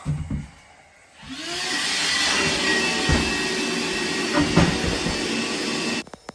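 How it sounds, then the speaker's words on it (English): A vacuum cleaner sucks up sawdust, debris and bits of rotten timber during a bathroom remodel, starting after a short pause with a loud steady whine and a few rattling pickups, then cutting off abruptly at the end. "Gonna hoover out in between any sawdust, any debris, any last remains of rotten timber."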